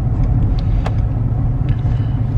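A car's engine rumbles low and steady while driving along, a close, continuous drone with no talk.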